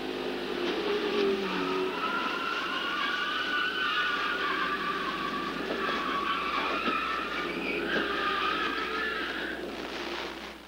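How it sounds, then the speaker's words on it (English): In-car view from John Andretti's race car at the 1998 Daytona 500: a steady, loud engine roar with shifting tones runs throughout, no talk. "Inside John Andretti's car for this look."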